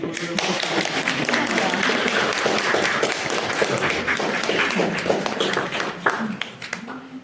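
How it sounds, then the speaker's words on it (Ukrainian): Audience at a museum literary event applauds a woman being congratulated, with steady clapping and tapping in a room, a few louder claps toward the end and some voices mixed in. "Привітайте її оплесками."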